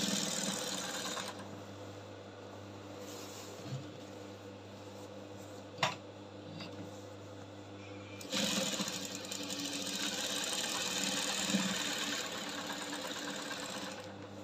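Sewing machine stitching embroidery on a kaftan, a steady fast whirring hum close by, pausing briefly in the middle before resuming just as loudly.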